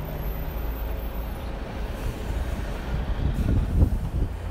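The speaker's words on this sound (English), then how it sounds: "you can hear the traffic around us more now" Road traffic around Ladbroke Grove in London, a low, steady rumble of passing vehicles that swells as one draws nearer toward the end, moderately quiet with no talk.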